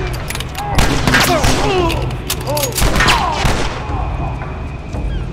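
Gunfire from The Last of Us Remastered in the Quarantine chapter, with several loud, sharp shots and bursts in quick succession, echoing booms and thuds mixed with game sound effects.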